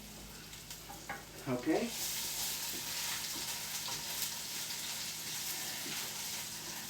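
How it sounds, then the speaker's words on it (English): Garlic and ginger hiss and sizzle steadily as they fry and are stirred in a pan, a continuous close crackle after a few brief stirring clatters, with a short spoken word early on. "stir in garlic and ginger"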